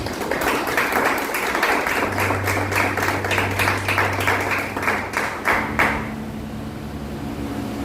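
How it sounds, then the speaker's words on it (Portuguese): A church congregation at a worship service applauds, dense rhythmic clapping filling the room before cutting off abruptly near the end, leaving a low hum behind. "Aplauda o Senhor, querido."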